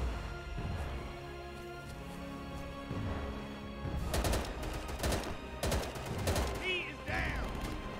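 Gunfire in a video game comes as sharp shots in quick bursts over a low droning background, with a few faint high chirps near the end.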